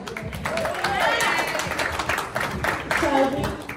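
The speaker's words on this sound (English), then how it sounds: "Let's give a round of applause." Guests clapping at a sweet 16 party, a moderate round of applause mixed with whoops and overlapping voices, swelling and fading over a few seconds.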